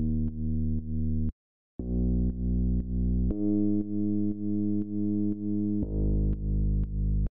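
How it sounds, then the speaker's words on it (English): A synthesized bass line in a Tourist style plays sustained, rich-harmonic notes that step between pitches, with one short gap of silence near the start and slight pulsing in each note, clean and alone with no voices. "So the next thing that we have here is this bass, which sounds like this."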